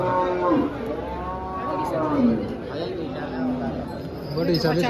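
A cow moos in a long, drawn-out call, with a second lower moo following, amid background noise and people talking nearby at a cattle market in Dhule.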